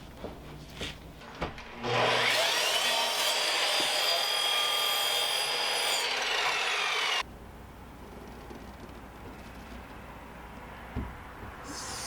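Power saw cutting through the tops of old reclaimed wooden window frames for a shed build, a loud steady whining cut lasting about five seconds and then stopping abruptly, followed by quieter background noise.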